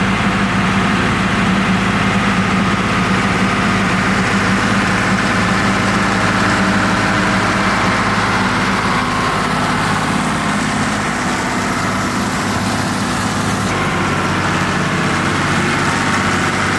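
An old tractor's engine idles steadily and loudly for the whole stretch, a constant low diesel rumble with a mechanical vibration, near and unbroken, while a round baling job is underway.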